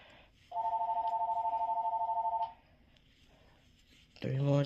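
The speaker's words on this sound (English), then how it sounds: "Never mind that house phone. Nobody's calling for me." A house phone gives one long electronic ring of about two seconds, steady and pulsing, then stops; a voice starts speaking right at the end.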